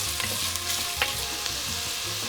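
Chopped red onion sautéing with cumin seeds in hot oil, a steady close sizzle with a few soft scrapes of stirring, no voices.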